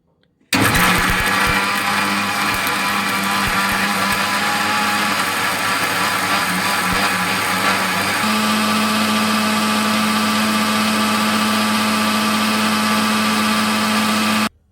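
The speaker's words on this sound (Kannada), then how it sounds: "ಇವಾಗ ಇದನ್ನು ಕ್ಲೀನಾಗಿ ನುಣ್ಣಗೆ ರುಬ್ಕೊಂಬರೋಣ ಫ್ರೆಂಡ್ಸ್" A mixer grinder whirs loudly and steadily for about fourteen seconds, its motor pitch shifting partway through as herbs are ground finely with a little water for butter chicken chops.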